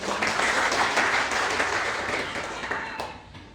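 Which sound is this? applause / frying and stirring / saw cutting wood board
applause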